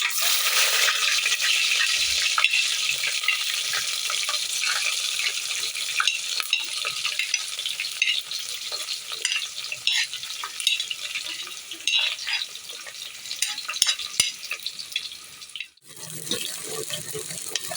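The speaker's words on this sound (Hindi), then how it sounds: "ऑयल हमारा गर्म हो चुका है, अब हम इसमें प्याज शामिल करेंगे।" Onions sizzle in hot oil in a pan as they are stirred, a steady close hiss with scraping and clinks from the utensil, for a bottle gourd and meat curry.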